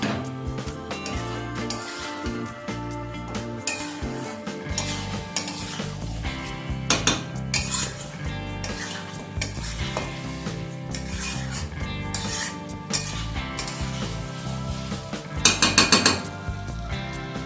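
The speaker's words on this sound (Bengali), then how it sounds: "এবার মিডিয়াম ফ্লেমে মাংসটাকে 10 মিনিটের মতো সময় নিয়ে আমি কষিয়ে নেব" Spicy Bengali chicken kosha is stirred and braised in a pan on a medium flame. A spatula scrapes and clanks repeatedly against the metal pan, up close, with an occasional louder rattle of stirring.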